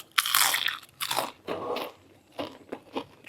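Crispy fried food bitten close up, several loud crunching bites with short quiet gaps between them, turning into softer chewing crackles toward the end, with no talking.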